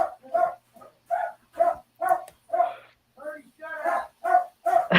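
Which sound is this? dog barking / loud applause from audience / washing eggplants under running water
dog barking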